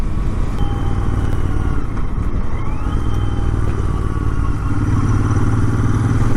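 Royal Enfield Interceptor 650 engine holding a steady hum just over 4,000 RPM while riding, loud and continuous with road and wind noise, no speech.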